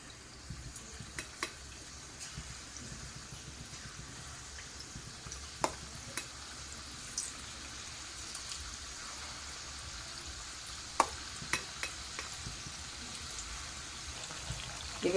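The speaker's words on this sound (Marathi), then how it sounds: "आता आपण थोडं थोडं बॅटर टाकायचं आहे, चांगलं तेलामध्ये फ्राय करून घ्यायचं आहे असं" Small spoonfuls of batter frying in hot oil for motichur modak, a steady, quiet sizzle with scattered crackles and pops throughout.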